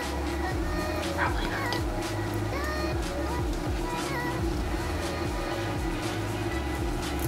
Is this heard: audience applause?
no